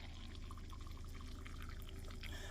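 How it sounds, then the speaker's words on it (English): Black coffee pouring into a turmeric and neem mixture, a steady close liquid stream running unbroken for a few seconds at low level. "Then I take good old-fashioned black coffee and I pour it"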